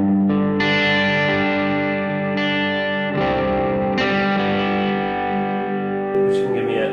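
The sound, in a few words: guitar through light cave reverb effect pedal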